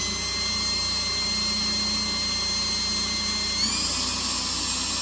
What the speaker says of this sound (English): And I'm drilling.